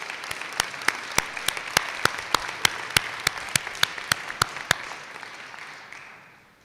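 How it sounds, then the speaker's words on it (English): Audience applause for a guidance counselor at a high school class of 2021 honors night: about fifteen sharp claps in a steady rhythm rising out of a bed of crowd clapping, fairly close, then fading out toward the end. "Can you guys give him a round of applause?"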